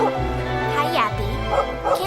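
A dog barks and yips a few times in the English dub of the animated film Whisper of the Heart, with a voice speaking over the short, high barks.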